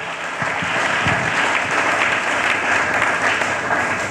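A church congregation applauding the Lord, steady dense clapping from a large crowd filling the room, loud and sustained throughout.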